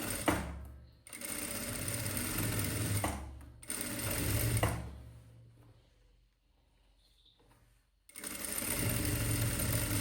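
A sewing machine stitches a folded blouse hem in loud running bursts, with short pauses between and a longer quiet stretch before the last burst.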